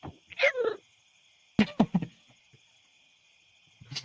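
A voice imitates a cat's kitty noises, giving a few short meow-like bursts separated by pauses during a tabletop Pathfinder game session.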